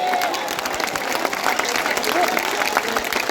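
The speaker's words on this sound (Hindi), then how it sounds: "तालियां कम रह गई है विदिशा के लोगों" An audience claps at a Hindi patriotic poetry recital held in Vidisha on Martyrs' Day. The applause is dense and steady, loud and continuous throughout, with crowd noise mixed in.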